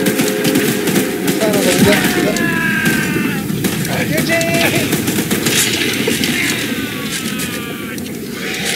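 A machine gun in the video game Choo Choo Charles rattles in continuous loud bursts against a dense backdrop of game noise, with players talking over it throughout.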